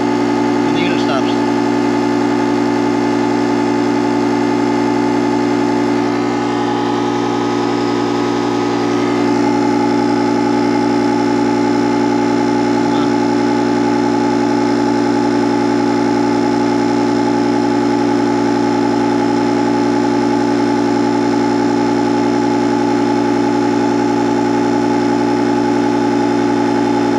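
JOMGAND 3750A jump starter with 150 PSI air compressor running, a loud, steady, close mechanical drone with a constant hum that continues unchanged throughout.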